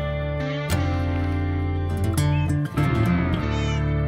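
A Minecraft cat meows repeatedly in a game world, several clear, tonal meows with rising and falling pitch, loud and close over steady background game music.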